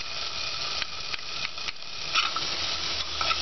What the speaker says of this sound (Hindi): अच्छे से मिक्स करने के बाद